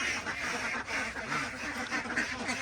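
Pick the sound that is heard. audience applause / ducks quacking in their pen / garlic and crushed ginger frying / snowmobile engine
ducks quacking in their pen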